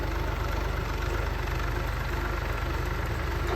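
An engine-driven borewell drilling machine on a farm field, running with a steady low throbbing idle and a dense mechanical rumble, close and constant for the whole stretch.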